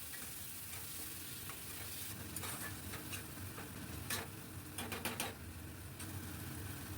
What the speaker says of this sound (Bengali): খুব ভালো করে কষাতে থাকবো